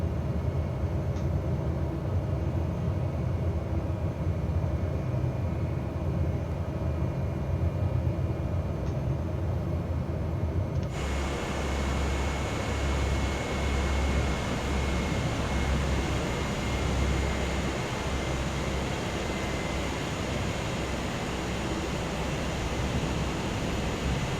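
An airplane landing in Microsoft Flight Simulator: a steady engine and airflow roar that jumps abruptly to a louder, fuller rumble about halfway through and then holds, with no voices.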